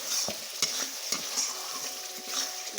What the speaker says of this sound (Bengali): এখন মশলাটা বানাচ্ছি মাছের